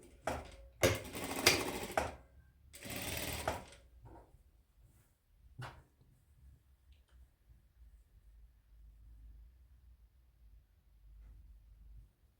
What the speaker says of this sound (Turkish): omuzdan buradan başlıyorum pervazımı dikmeye